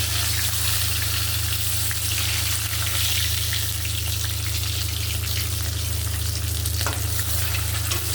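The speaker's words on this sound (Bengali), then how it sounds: "এক একটা করে মাছগুলো ভেজে নামিয়ে নেব" Pieces of rohu fish frying in hot oil for a Bengali-style kalia: a dense, steady sizzle and crackle that holds evenly throughout, close and loud, with no voices.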